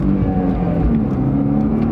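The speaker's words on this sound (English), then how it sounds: "Give it some gas." A V6-powered Chrysler-era Mercedes car accelerating hard, its engine note rising steadily and loud and close throughout, with no talking.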